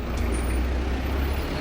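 A city bus on Route 107 passes along a street in Sutiava, Nicaragua, with a low, heavy engine rumble and a brief hiss of air brakes, loud and close amid road noise.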